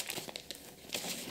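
Packing tape crinkles and crackles in short, brittle bursts as a parcel of theatre books is opened, heard close and alone.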